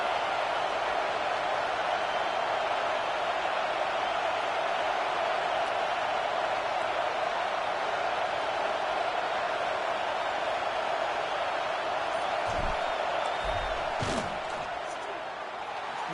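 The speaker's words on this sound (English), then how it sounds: "This crowd trying to do its part to get inside the kicker's head." Sustained roar of a stadium crowd in a football video game as the field goal unit lines up for a kick, a broad, steady wash of noise with a couple of sharp thuds near the end.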